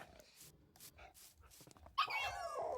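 Dog barking in a video game, a short run of yips and barks followed by a louder, sustained whimpering or barking burst near the end.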